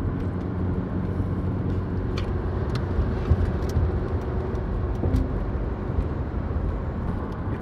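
A 1980s Ford Sierra RS Cosworth on the road, heard from inside as a steady low engine and road rumble with tire noise and small bumps, continuous and fairly loud.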